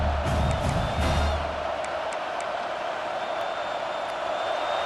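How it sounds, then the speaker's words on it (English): A football stadium crowd at a South Carolina vs SMU game roars and cheers loudly in a big moment, a steady, dense wall of distant crowd noise lasting the whole stretch. "These fans are going absolutely nuts."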